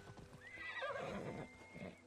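A horse whinnies in Assassin's Creed Odyssey, a rising and falling neigh at moderate level with soft hoof clops underneath, brief and without talk.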